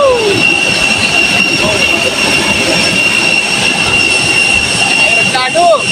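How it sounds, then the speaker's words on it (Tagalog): Airplane jet engine at an international airport, a loud steady roar with a high whine layered over it, close and constant, with voices briefly heard beneath. "Aeroplano!"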